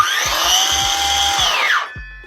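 Kobalt 6.5-inch 24-volt brushless circular saw whines loudly and steadily through a cut, with thumping knocks beneath, before the motor spins down at the end.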